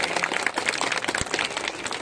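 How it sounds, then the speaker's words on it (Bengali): An audience at a school ceremony honouring SSC 2024 students with GPA 5 claps in a dense, continuous patter, moderately loud and steady for the whole stretch. "সবাই একটু হাততালি দিয়ে আমরা করতালি দিই।"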